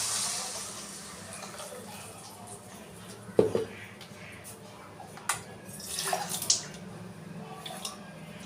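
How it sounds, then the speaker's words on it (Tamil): Tamarind water is poured into a sardine fish curry cooking in a pan, giving a soft hiss of liquid with a few sharper splashes and drips, fairly close and moderately quiet. "புளி தண்ணி ஊற்றிக்கலாம்."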